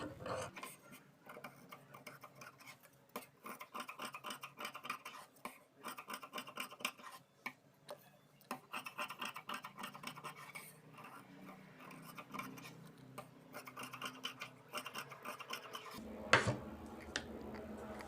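Scissors trim the extra fabric from a stitched katori blouse piece, giving a long run of close, dry scratching snips and ticks in an uneven rhythm, with one sharper burst near the end and no voices.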